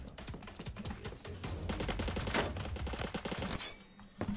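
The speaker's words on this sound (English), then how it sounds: "Where are those shots coming from?" Rapid, overlapping gunshots crackle in Roblox Phantom Forces, a dense burst of fire that builds and continues for several seconds before thinning out.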